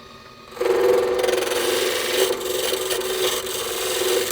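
Dried glue is scraped off a trophy in a continuous close scraping rasp with a faint whirring edge that starts abruptly after a brief quiet lead-in and holds steady, with no speech.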